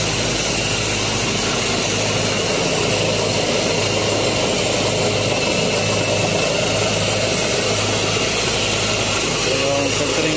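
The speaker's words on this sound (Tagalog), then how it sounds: "So ito yung ginagamit nating pump." Vacuum pump running on a 50 MVA power transformer, a loud, close, steady engine-like drone with constant low hum and vibration, unchanging for the whole stretch.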